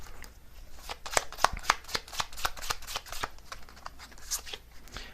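Tarot cards shuffled by hand during a reading, a quick run of crisp riffling snaps and soft slaps in close succession, steady and near with no talk over it.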